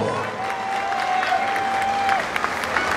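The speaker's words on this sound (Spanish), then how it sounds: "¡Fuerte los aplausos!" Dense, steady applause from a large crowd at an outdoor concert in Santa María Tecomavaca, Oaxaca, filling the clip with a continuous wash of claps and a faint cheer or whistle near the start.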